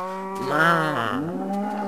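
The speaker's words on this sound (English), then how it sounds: "These cows are not cute. They look like real cows." A single cow in the Minecraft video game gives one drawn-out, tonal moo, close and clear, rising then falling in pitch.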